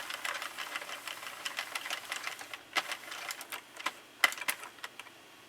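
Sentro knitting machine cranked through a full row with no yarn, a close, quiet train of rapid mechanical clicks and clatters that pick up into sharper ticks toward the end.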